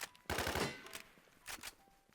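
Gunfire in the video game Midnight: a loud burst of rapid shots, then a second shorter burst about a second later, over quiet game ambience.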